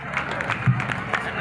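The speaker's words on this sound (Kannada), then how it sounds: "ಚಪ್ಪಾಳೆಯನ್ನು ಇದು ಮಾಡ್ರಿ." An audience at a Sevalal Maharaj Jayanti celebration in Kalaburagi claps in short, scattered bursts, loud and close, mixed with crowd murmur and people talking.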